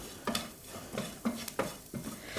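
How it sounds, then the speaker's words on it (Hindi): Dal with kasuri methi being stirred and roasted in a pan: a spoon scrapes in several distinct strokes about every half second against a soft background sizzle, close and fairly quiet. "कसूरी मेथी को डाल के हमें अच्छे से भून लेना है"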